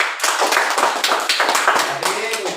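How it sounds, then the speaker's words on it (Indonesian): A class of students clapping their hands during a lesson: a short burst of uneven claps that comes and goes, with voices mixed in. "Oke, tepuk tangan dulu."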